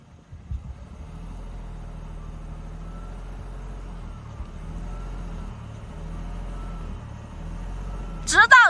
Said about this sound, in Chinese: 踩着油门倒不动啊？